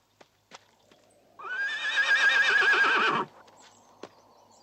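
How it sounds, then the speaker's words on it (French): A horse gives a loud, drawn-out neigh lasting a couple of seconds, with a few faint knocks and hoof sounds before and after. "Le cheval que le marchand voulait me vendre ce soir est là dehors."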